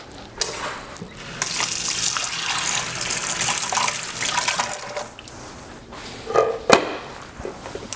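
Water from a kitchen tap runs steadily during a quick wash-up while cooking, a close, even rushing stream with a few splashes and clinks toward the end, no voices.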